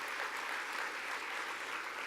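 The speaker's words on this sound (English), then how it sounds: "can we just give another round of applause before we have the benediction?" Faint, steady applause from an audience at a neighborhood community meeting, a soft continuous patter of many hands with no voices over it.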